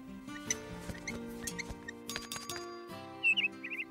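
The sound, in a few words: cartoon blue bird twittering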